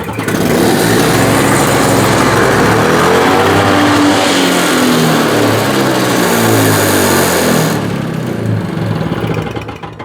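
A Toro snowblower engine roars loud and continuous, its throttle sticking so the revs stay high and wavering for several seconds before dropping off near the end.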